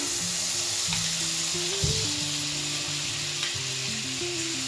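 Ghee sizzling in a hot wok: steady frying sizzle with a crackly hiss throughout, a low tonal hum underneath, and a brief clatter near the middle; no voices.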